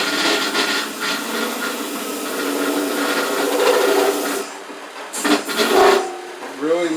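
Power sander working wood, a loud continuous abrasive whir that cuts off partway, followed by brief rubbing bursts, with a voice talking over it.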